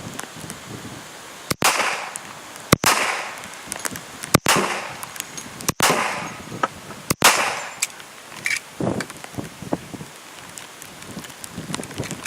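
Five sharp, loud gunshots from reloaded cartridges ring out outdoors at fairly even intervals about a second apart, followed by wind noise and scattered clicks and handling sounds.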